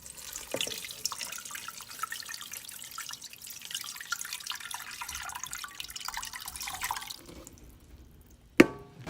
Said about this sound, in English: The next step is to bring the cabbage to a boil and pour water onto the cabbage.